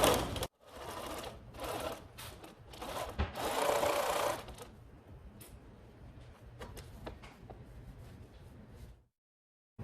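A sewing machine running a top stitch along a Greek key trim on drapery fabric, a steady close mechanical whirr for about four seconds, then a quieter run of stitching that fades to silence near the end.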